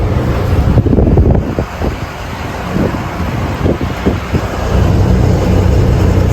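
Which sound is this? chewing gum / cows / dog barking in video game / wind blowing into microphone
wind blowing into microphone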